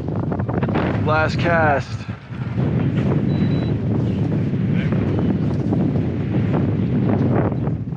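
Wind gusts roar across a microphone aboard a fishing boat off Martha's Vineyard, a constant buffeting rumble running under brief speech throughout.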